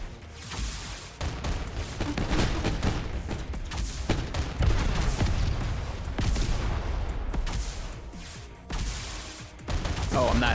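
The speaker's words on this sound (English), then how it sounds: "What the hell is firing at us? Is it just these turrets?" Turrets open fire in the Mech Havoc combat game, a dense barrage of booming shots and crashing impacts that rolls almost nonstop at high loudness, with brief lulls between bursts.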